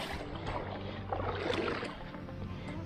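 Steady low hum of a ProTuar brushless electric motor driving a Savage Gear E-rider 330 fishing kayak on a salt-marsh pond, running continuously with water swishing around the hull, moderately close.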